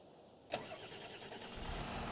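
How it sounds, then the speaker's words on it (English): A John Deere tractor engine cranks over with a sharp burst, then catches into a steady rough idle that builds slightly in low rumble toward the end, with no one talking. "So I'll quickly jump into the John Deere tractor"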